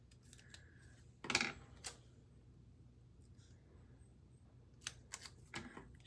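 Scissors snip through a planner sticker sheet at a desk, with a couple of close, crisp cuts and a few lighter snips later, otherwise quiet.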